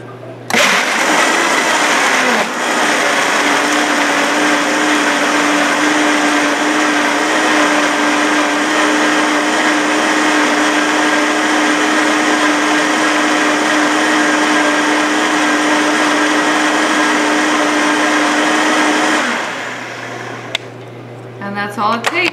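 An electric blender runs loudly and continuously for about seventeen seconds, mixing a raw chocolate shake, then winds down as the motor stops and faint kitchen sounds follow.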